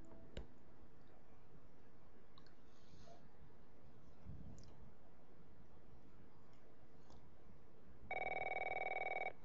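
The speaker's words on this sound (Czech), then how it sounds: "A telefon." A telephone rings in The Last of Us near the end, a loud steady electronic ring entering sharply after quiet ambience with faint ticks and soft movement.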